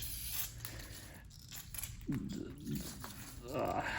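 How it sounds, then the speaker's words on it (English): Brake cleaner hisses from an aerosol can onto the hub cone of a 1972 Toyota Corolla front hub, in a few short bursts that sputter as the can runs low, mixed with a man's speech and handling noise. "So just use some brake clean."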